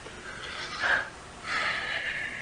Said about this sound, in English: I think I can hear her breathing